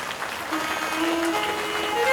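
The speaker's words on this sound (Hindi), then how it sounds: "राम के लिए जोरदार ताली बजाइए।" An audience at a Shrimad Bhagwat Katha religious gathering in Katni, Madhya Pradesh, breaks into applause, a steady, moderately loud patter of many hands clapping that swells slightly toward the end.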